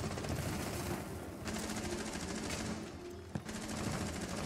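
Rapid automatic gunfire in Rainbow Six Siege, a dense unbroken burst of shots running the whole time with one sharper crack near the end.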